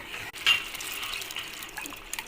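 Water streams steadily from a tap into cooked mango dal, a continuous close splashing gush that carries on alone for a couple of seconds.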